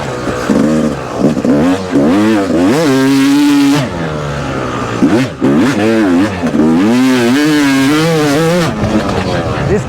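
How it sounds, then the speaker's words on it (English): Yamaha YZ250X two-stroke dirt bike revved hard and repeatedly, each rise sweeping up into a loud, buzzy wail and dropping back, close to the microphone with only brief dips between revs. "This bike just feels home when you rev the crap out of it."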